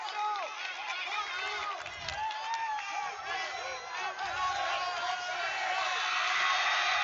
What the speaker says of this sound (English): The crowd is really getting into it here in the fourth quarter.